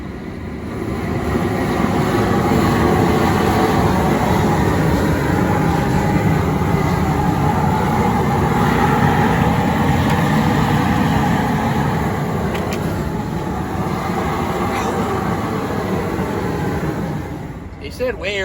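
A rolling crawfish cooker spins steadily with a continuous loud rumbling churn that holds for nearly the whole stretch, close by and broad, with no clear voices over it.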